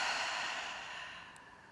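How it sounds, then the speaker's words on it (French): A slow, long exhale through an open mouth during morning yoga breathing, a soft airy breath heard close and alone, gradually fading over nearly two seconds. "Ouvre ta bouche et expire."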